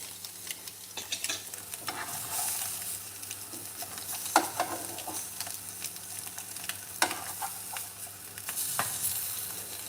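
Boiled eggs frying in a pan for egg curry, a continuous hiss and crackle with intermittent sharper spits and the occasional scrape or tap of a utensil, close by and with no talking.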